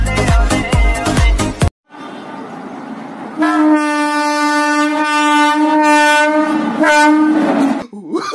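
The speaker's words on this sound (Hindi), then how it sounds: "हॉर्न सुनाई नहीं दे रहा क्या?" Train horn sounding loud and near as the train passes, held steady for a few seconds and blown again in a second long blast, after a brief burst of music.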